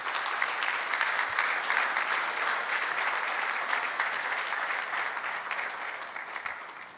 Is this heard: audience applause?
yes